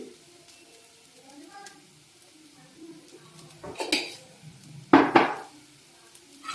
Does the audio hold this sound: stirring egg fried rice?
yes